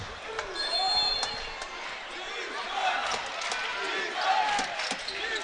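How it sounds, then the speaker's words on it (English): A college basketball crowd at a conference championship game chants in rhythmic, swelling waves during a medical timeout, loud and continuous, with sneaker squeaks and a commentator talking over it. "the crowd goes into the Misha chants, trying to pump up this Max team"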